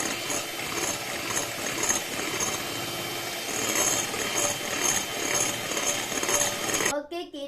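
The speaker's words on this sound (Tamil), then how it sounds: "நம்ம பீட் பண்ணும்போது ஒரே சைடுக்கு தான் பீட் பண்ணிக்கணும்." Egg whites being beaten for meringue kisses, a steady, busy whirring and rattling mechanical beating that continues close and loud for about seven seconds before stopping abruptly.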